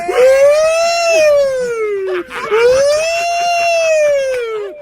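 A wailing siren-like tone rising and falling in two long sweeps, loud and close, with a rough, voice-like quality suggesting a person imitating the siren.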